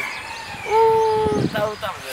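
A rooster crows once with a long, drawn-out call. It is moderately loud and sits under and between the voices of people talking nearby.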